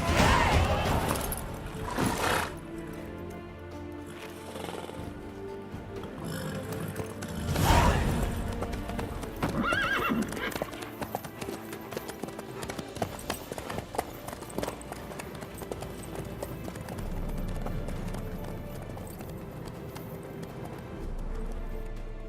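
Horse hooves clip-clopping in The Witcher 3 video game, a steady rhythmic trot running under game music and occasional character speech, moderately loud throughout.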